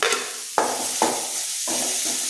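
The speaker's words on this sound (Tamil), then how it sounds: "இதை ஒரு நிமிஷம் அப்படியே கிண்டி விட்டுக்குவோம்" A ground masala paste is stirred into plantain frying in a pan for a wedding-style raw plantain fry: four sharp scraping strokes over a continuous close sizzle.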